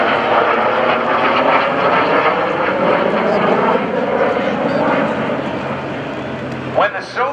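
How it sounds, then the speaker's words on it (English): An L-39 Albatross jet trainer roars overhead during a military airshow at a naval air station, a loud, sustained broadband engine rush that slowly fades, with a commentator talking over it throughout. "L-39 Albatross was used as a jet trainer for the former Soviet Union."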